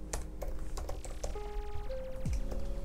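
Fingers tap out a title on a computer keyboard in a quick, uneven run of close, crisp keystrokes, with a few brief electronic tones sounding underneath.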